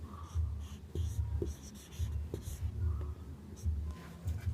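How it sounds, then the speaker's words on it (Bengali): A pen or pencil writes English letters by hand, making quiet scratching strokes in a soft, irregular rhythm, with faint low murmuring underneath. "এটা কিরকম লিখবো দেখো"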